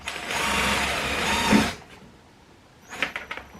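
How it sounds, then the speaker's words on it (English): A steady, loud power-drill whir runs for under two seconds while drilling a hole in a setup for a rust-removal electrolysis tank, then stops; a few faint clicks and rattles follow. "I'm going to drill a hole"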